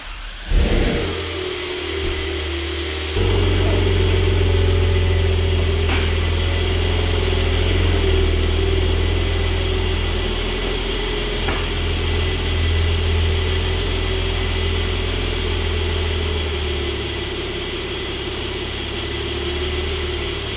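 A Porsche 992 drives slowly up onto race ramps in a garage, its engine starting with a sharp burst, then running loud and close with a steady low rumble and light revving that eases off toward the end.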